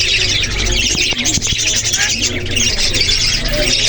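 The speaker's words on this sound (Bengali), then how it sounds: "এখানে প্রচুর পরিমাণ কবুতর আছে" Dense, busy bird sounds with squawks and soft coos from many pigeons, Oman teddy and fancy breeds, close by in a pigeon shop at Khulna Boro Bazar, filling the space continuously amid background noise.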